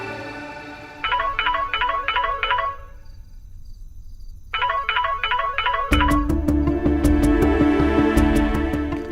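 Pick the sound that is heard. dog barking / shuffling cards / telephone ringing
telephone ringing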